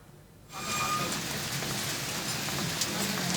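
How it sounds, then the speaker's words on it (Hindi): Heavy rain with hail in Ranikhet town, Uttarakhand, bursts in suddenly and keeps up as a loud, dense, steady hiss and patter with no talk. "पर्यटन नगरी में अचानक से बारिश हुई, जोरदार बारिश के साथ ओलावृष्टि भी हुई है।"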